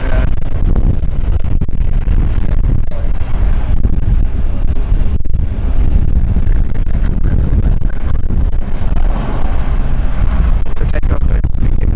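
A fixed-wing aircraft, registration LX-LGM, roars steadily at close range at London City airport, a loud broadband engine noise holding throughout with some wind buffeting on the microphone.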